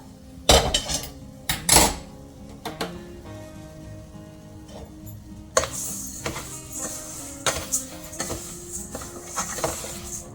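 Rice and fried lentils for a winter vegetable khichdi are mixed and washed in a metal pot, giving sharp clanks and irregular clinks and rattles, a few loud knocks, then a busier run of scraping clatter, with no talking.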